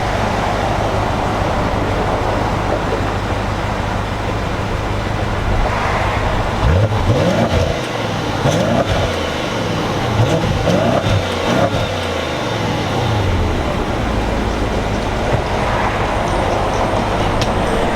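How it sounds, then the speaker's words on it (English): A stock BMW 750i M-Sport with a twin-turbo engine and about 100,000 miles drives along, its exhaust giving a steady low rumble that swells in a few throttle surges midway before settling back to an even drone. "let's have a listen to the exhaust."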